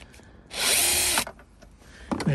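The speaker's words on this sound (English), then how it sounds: "Once it's loosened a bit, then you can just use the drill." A power drill whirs loudly for under a second as it spins out a seat bolt in an Astra K car interior, then falls quiet amid faint handling noise.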